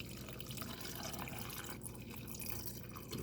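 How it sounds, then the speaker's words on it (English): Cold water is poured into a glass nearby, a steady splashing, trickling flow that lasts throughout at a fairly quiet level with no talk. "But we're going to do the cold water first here."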